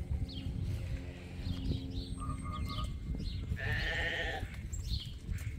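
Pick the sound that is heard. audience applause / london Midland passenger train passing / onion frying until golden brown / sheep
sheep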